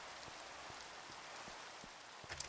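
Steady rain in a modded Minecraft game with the Create 6 airships modpack, a soft, even hiss with faint scattered drops throughout and no talking.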